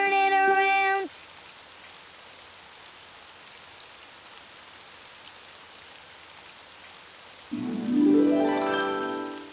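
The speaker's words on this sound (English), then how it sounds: "Oh, it's raining outside." Faint, steady patter of rain in the background, bracketed by brief ringing musical tones at the start and end.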